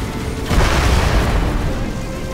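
An aircraft crashes and explodes in the video game Crysis, a loud rolling boom that swells after a moment and rumbles on for roughly two seconds, with no voices over it.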